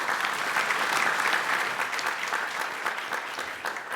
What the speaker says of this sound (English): A big round of applause for all of our sponsors.